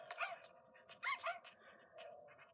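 Several dogs in the Nintendogs video game bark aggressively in short, sharp bursts, a few quick yips clustered together and then a final bark, fairly quiet and with no talking.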